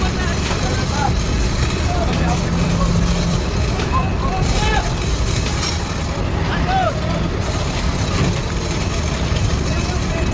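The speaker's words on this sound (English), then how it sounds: "A massive Volvo FMX tractor with extraordinary pulling power slowly entered the scene, the roar of the engine resounding throughout a corner of the forest." Volvo FMX tractor truck engine roaring in a forest, a steady, loud, low rumble that runs unbroken throughout, with faint higher noises scattered over it.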